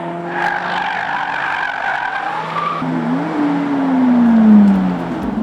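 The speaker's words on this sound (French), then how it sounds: "Tour de circuit en voiture de rallye, en Ferrari ou en Lamborghini" Rally car sliding around a circuit during a rally driving day, tires squealing in a long drawn-out skid that swells louder near the end over a steady engine drone.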